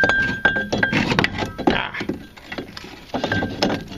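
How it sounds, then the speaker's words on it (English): A brake caliper drops from a 2000–2005 Hyundai Accent, giving a few bright metallic clinks and knocks up close amid scattered handling noise. "This caliper fell down."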